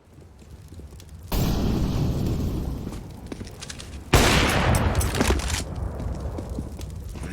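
Gunfire in a Counter-Strike esports match, Gambit against Entro in a grand final: two loud sudden booming blasts, each trailing off slowly, with scattered sharp shots crackling between and after them.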